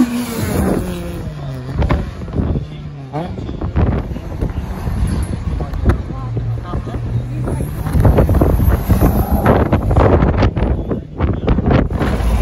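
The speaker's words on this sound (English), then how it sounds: "so windy." Steady wind roars against the microphone at the Sandown sprint on the Isle of Wight, with racing engine noise and passing vehicles underneath.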